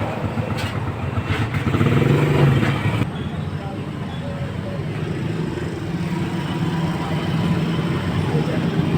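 A steady mechanical hum drones on without a break, a low, even whir from a small motorcycle fuel pump running close by.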